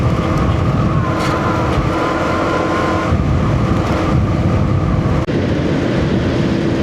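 A motorized tricycle's engine drones steadily on a road in Aguilar, Pangasinan, close and fairly loud, with a sharp tick near the end.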